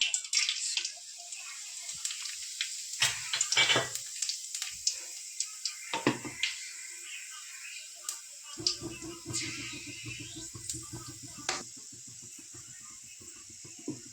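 Tempering spices sizzle and crackle in hot oil for a crab curry, a steady hiss with scattered sharp pops, fairly quiet and close, with no talking.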